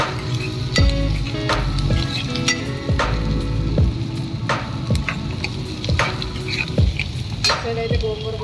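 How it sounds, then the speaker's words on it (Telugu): Onions and green chillies fry in a pan for an Andhra-style gongura and raw prawn curry, with a steady sizzle and repeated sharp scrapes and taps of a spatula stirring close by. "ఆనియన్ అయితే వేసుకున్నాం కదండి, ఆనియన్ అయితే వేగాయి కదండి."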